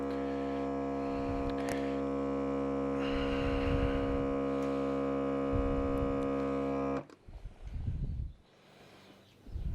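A countertop vacuum sealer pulls air from a bag of portioned pork loin with a steady, loud motor hum for about seven seconds, then cuts off, leaving quieter clicks and handling noises.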